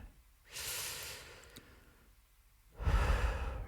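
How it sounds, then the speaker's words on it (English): Slow, deep breaths in a calm meditation setting: a soft airy inhale, a quiet pause, then a stronger, fuller exhale, close and alone with no talking. "breathing deeply,"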